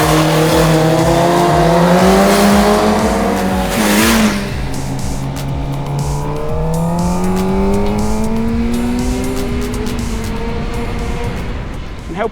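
Suzuki GSX-R750 motorcycles setting off into the countryside, engines revving loudly and rising and falling in pitch as they pull away, continuous and close.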